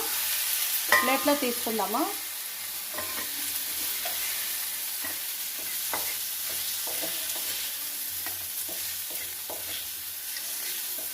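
Ingredients for mint chutney frying in a pan, a steady close sizzle of hot oil with scraping stirs and light clinks of a spoon against the pan throughout, no one talking.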